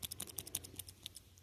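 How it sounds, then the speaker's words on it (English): A mechanical pencil from a collection clicks in quick, uneven bursts, a dozen or so crisp, light ticks close by and fairly quiet, with no talking. "Sound of clicking."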